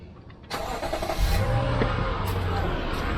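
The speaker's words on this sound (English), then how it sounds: "Now watch what happens when we start the truck." A Lexus GX460 truck engine cranks and catches, then settles into a steady nearby idle hum, with no talk over it.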